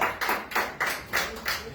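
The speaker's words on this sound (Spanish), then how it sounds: "Se aplauso para Dios, se aplauso todo corazón" Bursts of rhythmic clapping come in repeated waves, moderately loud and somewhat distant, as a church congregation applauds together during a service.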